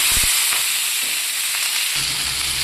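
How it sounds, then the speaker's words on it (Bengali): Sliced potatoes frying in hot oil in a pan, a loud continuous close sizzle with a brief stir or scrape near the start. "আলুটা প্রায় ভাজা হয়ে গেছে"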